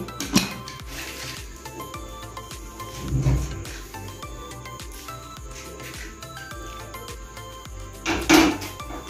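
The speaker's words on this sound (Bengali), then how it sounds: "এবার প্রেসার কুকারের ঢাকাটা লাগিয়ে দিচ্ছি" A pressure cooker lid is fitted and closed, with scattered clicks and clattering metallic knocks, a couple of louder clanks near the start and end, close by.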